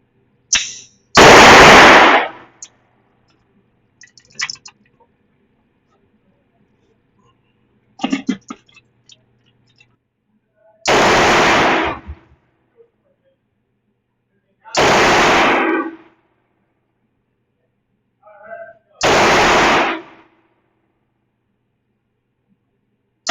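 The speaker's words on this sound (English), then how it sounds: "I'm gonna push this one within 25 yards, and I'm gonna just shoot the 19X" Four loud, sharp Glock 19X pistol shots fired at 25 yards on a range, spaced a few seconds apart, with faint handling noises between them and no talking.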